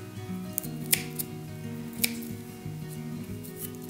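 Scissors snip through a ranunculus flower stem while a corsage is trimmed to fit, with two crisp close cuts standing out over a low background hum.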